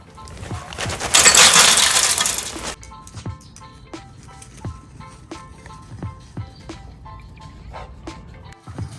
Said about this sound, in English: get some of these hickory wood chips pre-soaked in a glass of water